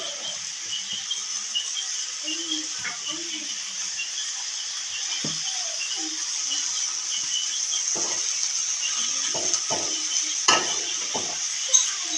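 Chopped tomato, green tomato, onion and chilli sizzle and crackle steadily in a hot pan, with occasional stirring clinks and scrapes of a utensil; no talking.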